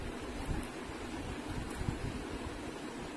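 Masala fries in oil for mutton biryani, giving a steady, dense sizzling hiss with faint pops throughout and no talk.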